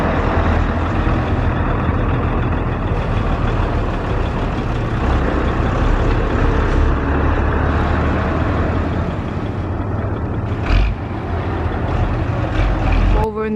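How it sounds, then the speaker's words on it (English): A Scania lorry arrives at a classic British lorry gathering, its engine a steady, loud rumble filling the whole stretch, with a brief hiss or clatter near the end. "Scania just arriving now"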